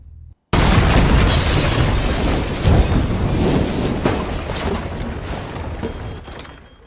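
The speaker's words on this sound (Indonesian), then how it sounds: "benar saja ledakan pun terjadi" A bomb explosion at a farm house in a film: a sudden loud blast after a brief quiet moment, followed by a long roaring, crackling rumble of debris that slowly fades.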